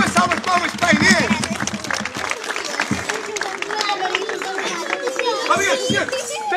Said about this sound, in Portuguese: Uma salva de palmas para a Inês.